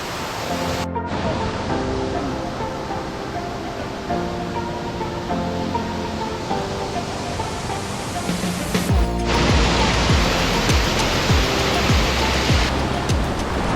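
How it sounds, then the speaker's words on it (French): Roaring waterfall in Jiaoxi, Yilan, Taiwan: a dense, loud, steady rush of falling water close by, growing heavier midway, with faint talk mixed in. "on est sur la deuxième cascade"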